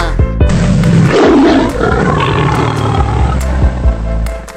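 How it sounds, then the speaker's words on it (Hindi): A tiger gives a loud, rumbling roar with a surging growl at its peak. It sounds over a rhythmic background music track with regular percussive beats. "tiger means Cheeta"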